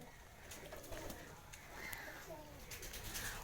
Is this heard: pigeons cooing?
yes